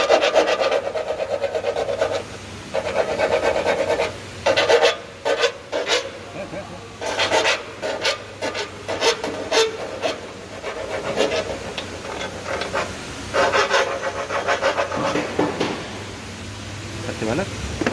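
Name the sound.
body shop tool grinding car body panel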